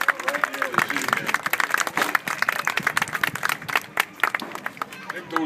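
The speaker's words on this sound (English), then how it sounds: "How about a big round of applause for me and the guys right here this evening?" An audience claps and cheers at a draft horse drill team show, dense sustained applause throughout with crowd noise and a voice mixed in.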